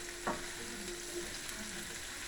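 Beetroot greens wilting in a pan on a stove, a faint, even sizzle with one brief clatter early on, quiet and close with no voices.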